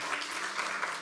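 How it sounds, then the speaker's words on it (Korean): A church congregation at a Korean Presbyterian Sunday service claps after a baptism, a short burst of dense, even applause filling the sanctuary. "박수를 해주시길 바랍니다."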